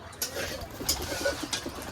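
Giribaj pigeons coo softly in a few short, low murmuring calls over a faint outdoor background, lasting only a couple of seconds.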